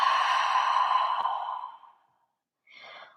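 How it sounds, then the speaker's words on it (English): A long, deep exhale during yoga practice streams out breathily and fades away, followed after a brief silence by the start of a softer inhale, close and alone. "2 more deep breaths. Inhale. And exhale."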